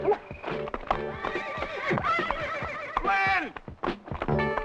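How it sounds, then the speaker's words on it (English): A horse whinnies and neighs repeatedly, loud and close, over the clatter of hooves, with other voices and sounds mixed in. "The noise and clatter of hoofbeats is much more soothing."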